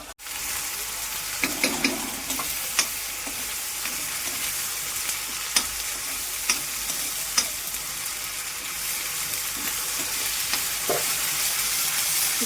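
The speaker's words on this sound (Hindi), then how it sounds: "तो ये आलू फ्राई कर लिए मैंने।" Potatoes fry in a pan with a steady close sizzle, broken by occasional clicks and scrapes from stirring, with no one talking.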